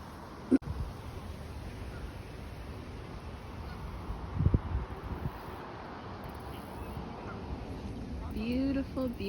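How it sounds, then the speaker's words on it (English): Canada geese honk from overhead in a park with wind noise, with a few faint calls scattered through and a clearer burst of honking near the end. "And the geese are up there. Canadian geese."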